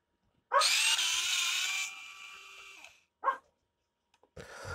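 A Geardrive WORKPRO electric screwdriver whirs as it unscrews a screw. A steady motor whine runs close and loud for about two and a half seconds and then winds down, followed by two short buzzing bursts.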